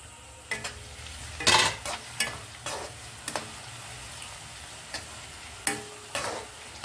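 Ivy gourd (dondakaya) curry fries in a pan, a low steady sizzle broken by sharp scraping stirs at irregular intervals.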